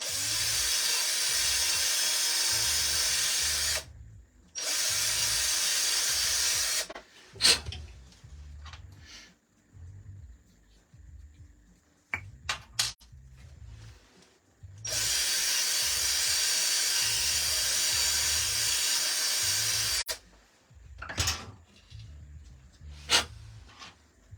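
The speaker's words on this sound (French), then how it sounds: "il va falloir mettre un coup d'alésoir dans le triangle pour que le triangle coulisse" A reamer spun by a power drill runs inside a Genius GTC8E 2023 bicycle frame in two loud, sustained whirring bursts, with a shorter third run and scattered clicks and taps between them.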